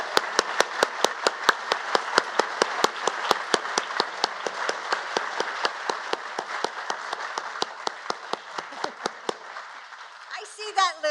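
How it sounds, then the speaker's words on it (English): An audience claps for National Guard families at a White House holiday decorations event, with steady applause and sharp individual claps running throughout before fading near the end, where a voice briefly speaks. "please wave so that we can applaud you"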